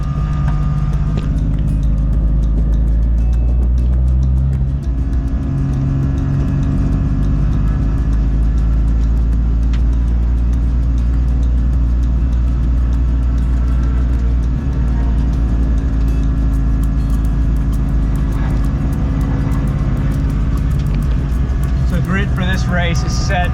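An SCCA race car rolls toward the grid at Daytona, its engine droning loud and steady throughout with low rumble and occasional revs, close to the microphone.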